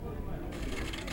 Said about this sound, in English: I call it the crunch shuffle because it bends the hell out of the cards.